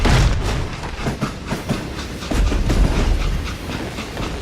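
A train in the video game Call of Juarez: Gunslinger rolls steadily along the rails with rhythmic clickety-clack and a constant mechanical rumble and hiss, loud and close.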